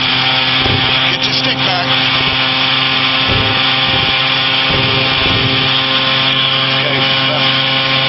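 A Challenger II ultralight aircraft's engine throttles up into a loud, steady, buzzing drone that fills the whole stretch, while a man gives brief instructions over it.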